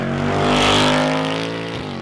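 A Ford Mustang exhaust with the resonator pipe deleted roars loudly and close, a sustained rising and easing engine drone with a rough rumble, ending in a brief dip.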